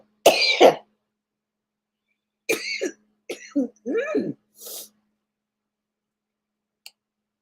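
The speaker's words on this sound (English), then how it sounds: "can't stop coughing" A person coughs in short, harsh bursts, a few separate fits with quiet gaps between, close to the listener.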